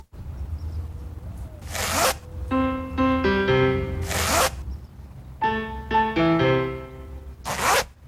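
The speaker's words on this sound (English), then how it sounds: "Introducing the new Pedigree Slide Right Zipper Bag." A Pedigree Slide Right zipper bag is zipped three separate times in quick, close, ripping strokes. Bright musical notes play between the strokes.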